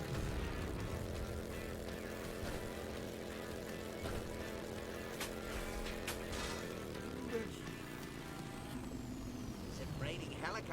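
Helicopters flying in the Death Lap VR vehicular combat racing game, a steady rotor and engine drone with layered machine noise running throughout, loud and continuous, with bursts of game effects on top.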